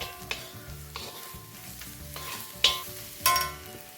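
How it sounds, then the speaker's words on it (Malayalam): Pepper and spice powders stirred in a pan, a few spaced spatula scrapes and taps over a low background hum, close and fairly quiet, with two sharper metallic clinks near the end. "അത് മാറുന്നത് വരെ ഒന്ന് ഇളക്കി കൊടുക്കണം"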